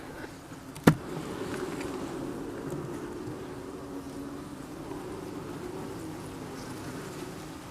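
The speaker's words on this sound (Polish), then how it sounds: "No jest tej pszczółki troszkę w tym ulu." Caucasian honeybees inside a hive give a steady, low buzzing drone that holds evenly throughout, with one sharp knock near the start.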